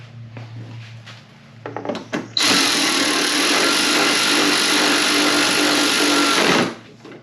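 A power drill drives bolts during a radiator install on a 2005 Toyota Sequoia, a close, loud, steady whirring run of about four seconds after some brief clatter.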